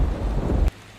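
Cartoon storm of heavy rain and rumbling thunder, a loud dense broadband wash that cuts off abruptly, leaving a quiet low hum before a brief burst at the very end.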